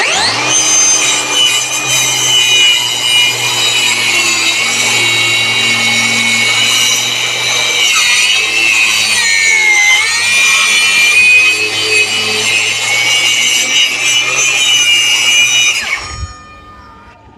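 A Laxton LX-55 cordless 5-inch circular saw cuts through wood, a loud steady whining buzz held for about sixteen seconds before the blade winds down and stops.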